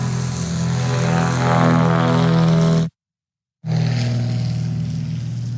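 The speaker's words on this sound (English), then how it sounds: "What a beautiful sound his propeller's generating, and combined with that, you said 250 horsepower engine." Murphy Super Rebel airplane with a 250-horsepower engine and an MT propeller flying past, a loud, steady propeller drone with a strong rhythmic buzz, briefly cut by a gap of silence before resuming.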